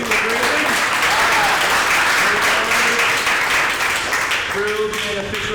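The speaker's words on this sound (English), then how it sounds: "Big round of applause for the people grading." Applause for karate students completing a belt grading, a steady wash of many hands clapping in a training hall, continuous and fairly loud throughout with some voices mixed in.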